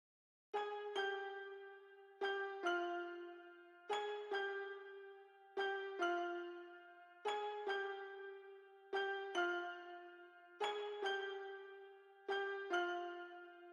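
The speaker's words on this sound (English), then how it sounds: "the finished piano pattern is sounding like this" A strummed piano pattern in a bouncy hip-hop beat plays alone: rolled chords return in a steady repeating rhythm, each ringing briefly before decaying.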